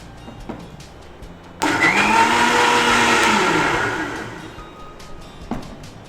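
A mixer grinder whirs loudly for a few seconds as it grinds grated coconut with iced water for a coconut milkshake, starting abruptly and then slowly winding down, with quiet kitchen noise before and after.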